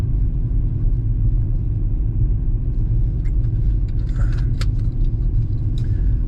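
A BMW E60 M5 idles with a deep, steady low rumble close by, with a few faint metallic jingles and clinks layered over it toward the end.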